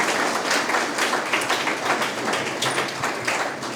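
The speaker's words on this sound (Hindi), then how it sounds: "हम मेंस वाले बच्चों के लिए एक ताली बजा करके उनको" A group applauding for students in an SSC CGL mains strategy session, a dense steady wash of clapping at moderate loudness with no talking over it.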